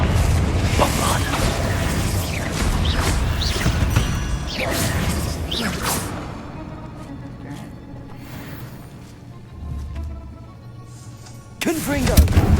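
Spell impacts from Bombarda, the exploding spell in Hogwarts Legacy, land as a dense run of loud booms and crashes over busy combat noise during the first half, then fade to a quieter stretch before another sharp burst.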